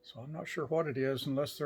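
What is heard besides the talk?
None of the usual background noises is heard.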